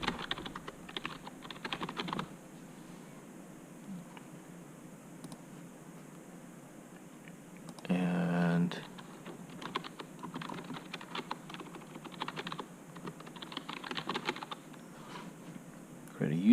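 A password is typed on a computer keyboard during a Fedora 33 Linux install on a Lenovo ThinkStation P620, with close bursts of quick key clicks separated by pauses and one brief louder patch midway.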